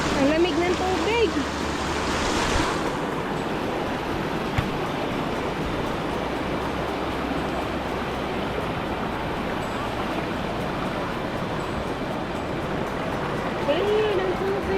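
A stream in San Francisco, Surigao del Norte flows with a continuous, close rushing and splashing wash. People can be heard talking over it.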